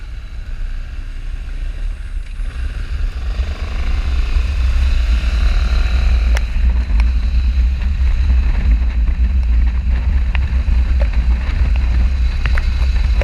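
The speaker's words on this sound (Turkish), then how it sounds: "Motor kullanıyorum şu an." Motorcycle being ridden on a winding mountain road trip in Şavşat, Artvin, giving a steady low engine drone buried in heavy wind buffeting that grows stronger after a few seconds and continues throughout, with no talk.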